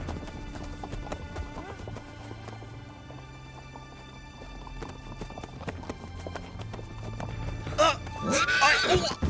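Horse hooves clip-clop at a steady walking pace with a whinny near the end, close and moderately loud, in an animated Pocahontas scene on a ride toward bison country.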